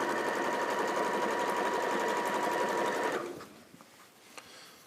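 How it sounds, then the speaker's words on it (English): A sewing machine runs at a fast, even buzz while stitching fabric along a bias edge, then stops abruptly and leaves a few light clicks. "you're sewing along a biased edge here"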